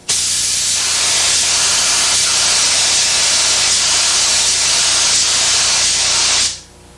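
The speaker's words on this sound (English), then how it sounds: "Spray the second coat a little bit further out." A paint spray gun lays a second coat onto a car body during a body repair, giving a loud, steady hiss for several seconds before cutting off abruptly.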